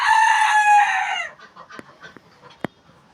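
Home flock of chickens, ducks and pigeons: a loud rooster crow rings out close by, then scattered short clucks and a sharp peck-like tap follow.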